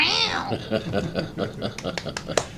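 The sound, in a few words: person imitating a cat meow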